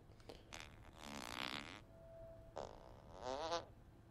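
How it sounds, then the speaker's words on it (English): A character in the video game Fable 2 farts, giving several quiet, raspy bursts: a pair of longer ones, a short pause, then two more, faint and without speech. "I didn't mean to fart."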